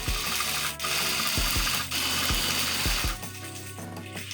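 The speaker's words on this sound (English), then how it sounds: "So now I took that boy to the sewing machine and stitched him up." A sewing machine stitches a fur hood zip-up in short whirring bursts, pausing briefly between runs in a steady, repeating rhythm.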